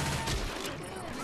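Gunfire in the Left 4 Dead 2 video game, a dense steady clatter of rapid shots filling the short moment, loud and close, with a faint voice underneath.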